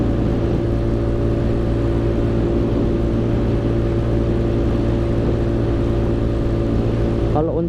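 A 2008 Yamaha Mio Sporty scooter with a stock engine and an aftermarket exhaust runs at a steady idle, its loud, close, throbbing low drone constant for several seconds before cutting off abruptly at the end.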